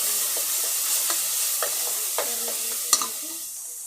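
Chili powder, turmeric, coriander powder and garam masala sizzle in a pan for mutton gravy, a continuous close hiss punctuated by light, irregular clicks and scrapes of stirring.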